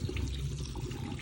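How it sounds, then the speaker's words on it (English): Tap water runs in a steady splashing flow to rinse milk off beef liver, close and moderately loud, with no talking. "So for me, I'll just run the water until"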